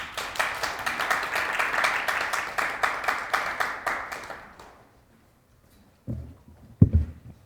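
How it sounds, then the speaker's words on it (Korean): Applause from an audience at an orientation event, a rhythmic burst of clapping that fades out after about five seconds, followed by a near-silent pause and then a few knocks and handling noises. "박수 부탁드리겠습니다"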